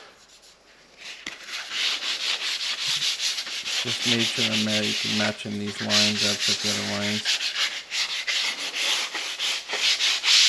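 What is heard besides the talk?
hand sanding wood pantry shelves with foam sandpaper scrubby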